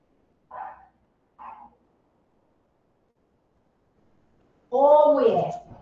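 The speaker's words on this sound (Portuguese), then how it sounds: "Peraí que tem uma cachorra muito selvagem aqui." A female dog barking at close range, two short barks early on, then a pause and a longer, louder yelping bark with no talk.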